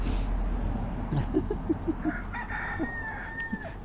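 A cockerel crows several times at a distance, faint short calls rising over a steady low rumble of outdoor background noise.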